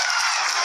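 A short burst of dense applause filling a mission control room during a lunar landing's vertical descent phase, broad and continuous clapping from many people.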